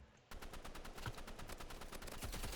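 Rapid automatic gunfire in a shooter game, a fast even burst of shots that starts abruptly and keeps hammering close and loud with no pause.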